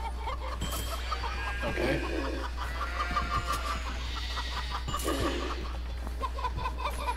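A chicken clucks in the video game Moving Out, short repeated clucks over steady game background noise, with brief talk from players.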